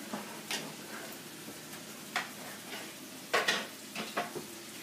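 Ground beef cooks in a pan with a low, faint sizzle. Scattered scrapes and clinks of a spoon break through at irregular intervals. No one speaks.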